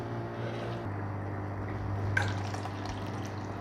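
Alkaline 9.5 pH water from a running Kangen ionizer machine pouring into a bottle, a soft steady trickle under a low machine hum.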